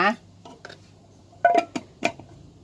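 A lid is pushed down onto a jar of mango tepache, giving a few close, light clinks and knocks in quick succession after a brief sound at the start.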